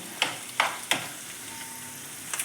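Egg bhurji cooking in a pan over a raised gas flame, giving a soft, low sizzle broken by three sharp scraping knocks of a spoon at the start and a brief clatter at the end.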